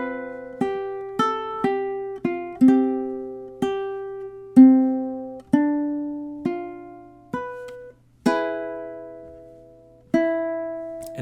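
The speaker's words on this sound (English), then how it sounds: "it's going to sound something like this. So measures 5 through 8." Ukulele picking measures 5 through 8 of a song as a slow single-note melody, about fifteen plucked notes with some left ringing, clear and solo without talk.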